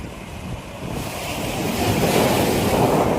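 Sea waves at Nivati Beach, a broad wash of surf building in loudness over a few seconds, mixed with wind buffeting the microphone, no voices.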